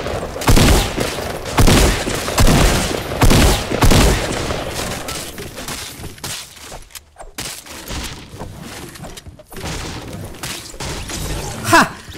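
Repeated bursts of Fortnite gunfire, loud and close, with heavy shots and rapid volleys in the first seconds, a quieter gap in the middle, and a final sharp shot near the end.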